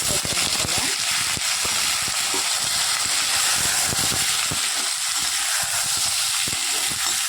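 Mustard seeds and urad dal splutter in hot oil, making a loud, continuous hiss with dense crackling pops close by.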